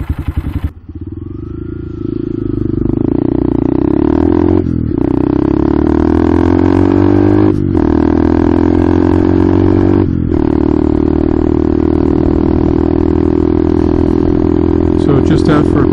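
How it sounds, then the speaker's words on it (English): A 2023 Honda Grom motorcycle fitted with a Tyga high-mount exhaust being ridden on the road, its engine droning loudly and steadily with brief dips at gear changes, a persistent close exhaust note throughout. "just out for a quick test ride, just installed the Tyga High Mount exhaust"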